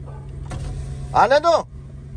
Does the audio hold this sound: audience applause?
no